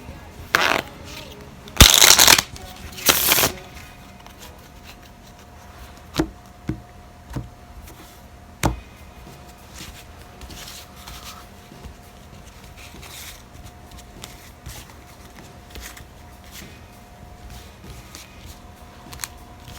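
Superman playing cards are shuffled in two short riffling bursts near the start, followed by a few soft taps and scattered light knocks in a quiet room.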